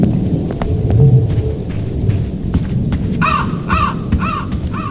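Crows caw in the Roblox horror game Doors: a run of four harsh, fairly close caws near the end over a dark, rumbling stormy ambience, with no talking.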